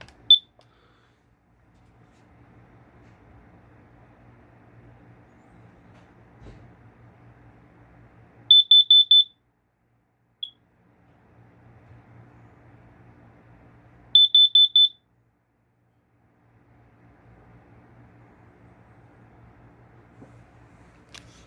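A Kidde Nighthawk KNCOPP3 carbon monoxide detector is tested, sounding two loud bursts of rapid high-pitched beeps several seconds apart, with a faint single chirp and a low background hum between them.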